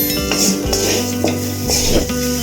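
Potato curry mixture being stirred and tossed in a frying pan, Nellai style, with scraping utensil strokes and clinks over a continuous close sizzle.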